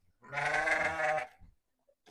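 A single pregnant sheep at a livestock market lets out one loud, close bleat lasting about a second, followed by a few faint knocks.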